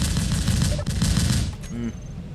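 Vulcan and Aiden guns firing in Space Engineers, a loud, dense stream of rapid automatic shots that pours on steadily for most of the moment before easing off near the end.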